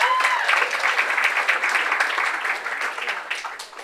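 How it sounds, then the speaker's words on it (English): A comedy club crowd at a Philly stand-up competition breaks into applause, a dense, lively wash of clapping that holds strong and then gradually thins toward the end. "Everyone give yourself another round of applause just for the hell of it"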